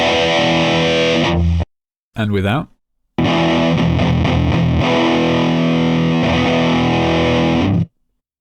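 High-gain distortion from a guitar amp simulator built in Snap Heap, played as two loud sustained bursts with EQ switched in and then out, separated by a short gap and a brief spoken aside.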